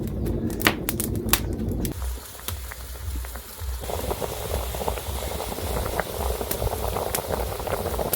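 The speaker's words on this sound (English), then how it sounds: "Now I'll bring it to a boil." Water with broken-up leftover ugali boils in a village cooking pot, a close, steady bubbling and popping with a few sharp clicks at the start, continuing without voices.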